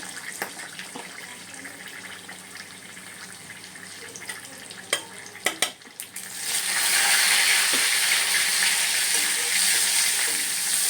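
Quiet crackling at first, a few sharp clinks, then a loud hissing sizzle as spices hit hot oil and keep frying steadily.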